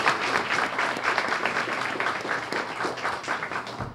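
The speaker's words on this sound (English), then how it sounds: "Let's have a nice round of applause for our veterans." School audience applauding veterans at a Veterans Day student-of-the-month gathering, a steady roomful of clapping hands sustained for several seconds, close and full.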